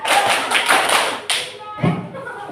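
Elementary school class performs a rhythmic clapping pattern, a burst of roughly regular claps and thumps close up with children's voices mixed in, then a brief pause before a second flurry.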